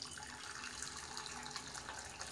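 Water from a pot of red acalypha extract drains into a bowl at a sink, a faint steady splashing trickle like a running tap, heard alone throughout.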